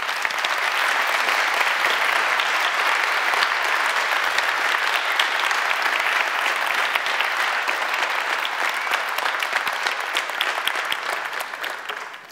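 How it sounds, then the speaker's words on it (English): An audience at an evening talk on stage gives sustained, steady applause, a dense wash of clapping that holds for about twelve seconds before tapering off at the end. "Do give them a round of applause."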